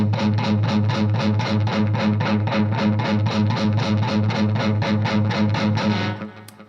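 A heavily distorted electric guitar chugs out a fast, even rhythmic riff for several seconds, then rings out and fades.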